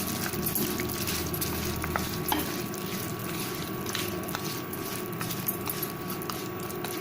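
Raw mango launji with jaggery, salt and kalonji cooking in a pan, giving a steady low sizzling and bubbling hiss throughout with a few faint clicks, no talking.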